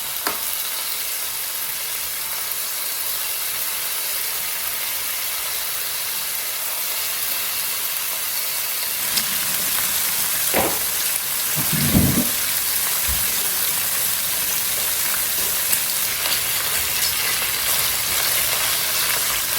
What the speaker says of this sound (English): Cut the bacon up in 3s, the strips, and we're gonna put it in the skillet.